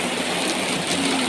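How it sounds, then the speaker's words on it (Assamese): Heavy rain pours down in a steady, dense hiss that stays close and fairly loud for the whole moment, with no voices over it. "আমাৰ ফালে পূৰা বৰষুণ দিছে দেই"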